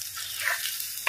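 Masala paste frying in oil in a pan for a fish dish, a steady bright hiss and sizzle with no voices.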